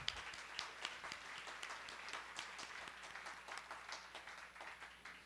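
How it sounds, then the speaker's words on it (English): An audience at a keynote event applauds student performances; quiet, distant clapping with individual hand claps standing out in an uneven patter throughout. "Let's give them a round of applause."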